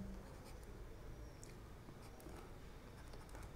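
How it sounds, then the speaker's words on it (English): Writing an equation on the board during a quantum field theory lecture: faint, steady scratching and tapping strokes over a low room hum, with no voices. "Let me write it down."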